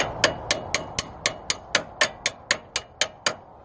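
Steady hammer strikes on the suspension of a 1997 Honda Prelude, about a dozen sharp metallic bangs at an even pace of roughly four per second, close and clear with nothing else around.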